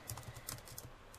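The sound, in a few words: typing on a computer keyboard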